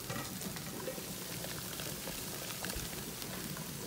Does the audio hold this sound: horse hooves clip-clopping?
no